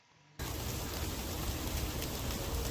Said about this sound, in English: That's sleet. It's a type of hail. It's small hail.